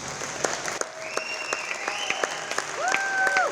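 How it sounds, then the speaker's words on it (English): A gym crowd claps for senior players at a high school boys volleyball senior recognition night, scattered claps popping over a hum of crowd noise, while squeaking sneakers and a tone chirp through the background. "Let's give them another round of applause."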